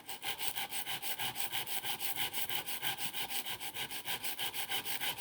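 A 125g archery broadhead is sharpened by rolling it along its factory bevel, producing quiet, rapid, evenly paced rasping strokes that continue steadily throughout, with no voice.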